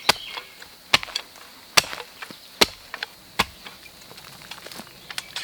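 Folding military entrenching tool used as a chopper with its serrated edge: sharp, dry chopping strikes at irregular intervals, several loud and some faint, close up outdoors with quiet between blows.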